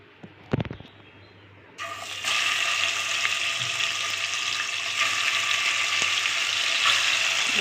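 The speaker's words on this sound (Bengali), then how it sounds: "এবারে আমি কড়াইতে তেল দিয়েছি, তেলটা গরম হয়েছে। এবারে মাছটা ভেজে তুলে নেব।" Boal fish marinated for eight hours is laid into hot oil in a kadai wok. After a short clatter, a loud, dense sizzle bursts up and holds steady, close and continuous.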